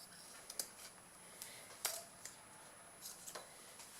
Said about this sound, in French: je vais découper le zip qui dépasse